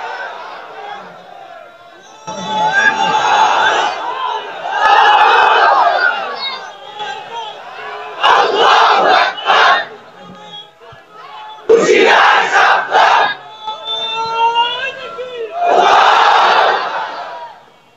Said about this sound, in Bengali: নারায়ে তাকবীর, আল্লাহু আকবার বললেন